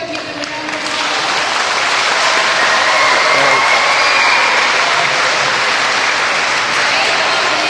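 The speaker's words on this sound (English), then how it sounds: "Let's go ahead and give them a round of applause." Audience in the stands breaks into broad, sustained applause at a ceremony honoring a National Teacher of the Year finalist, rising after a second and holding steady and fairly loud to the end.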